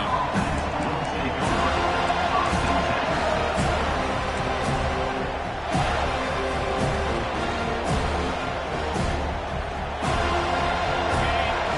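Stadium crowd at an American football game, a dense continuous roar of cheering and noise filling the whole stretch, with a commentator talking over it.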